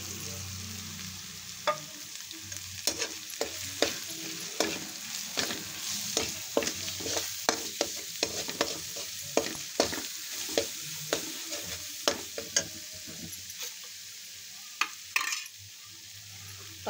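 Masala spices sautéing in oil in a pan for misal make a soft, ongoing sizzle punctuated by frequent sharp scraping and tapping strokes of a spatula, near and alone.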